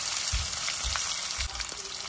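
Garlic pieces frying in hot oil with tempering spices (mustard seeds, cumin, urad dal, curry leaves) for an amaranth-stem fry, giving a steady close sizzle and crackle with a few low stirring thumps.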